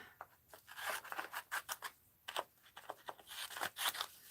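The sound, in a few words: cutting craft material with scissors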